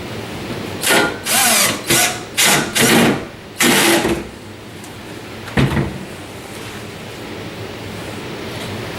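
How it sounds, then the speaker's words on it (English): Power drill set to low torque driving screws into plastic while installing an under-counter garbage drawer, a series of five short loud whirring bursts, then one brief burst after a pause. "This first screw is going into plastic, so I turned down my torque setting so that I could be sure not to strip the screws."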